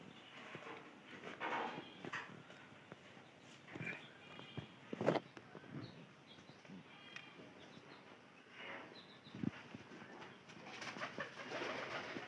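Pigeons in a coop coo softly and repeatedly, with scattered rustling and shuffling movements in a quiet space.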